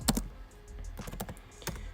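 Quick bursts of keystrokes on a computer keyboard while entering Pinterest tags, close and moderately quiet, with a short pause between clusters of taps.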